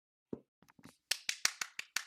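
A few scattered claps at first, then a steady run of sharp, evenly spaced hand claps, close and fairly loud, with no talking.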